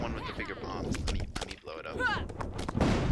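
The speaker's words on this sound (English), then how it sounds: "I'm gonna blow all of this up." Bombs go off in a video game, a string of booming, crackling blasts with a rumbling tail, heard under people chatting.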